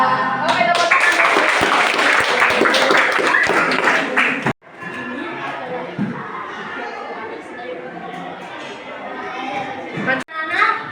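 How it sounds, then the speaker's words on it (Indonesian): Classroom of children clapping their hands together, loud mixed clapping and chatter from many young voices that breaks off, followed by quieter murmuring and movement. "Oke, tepuk tangan."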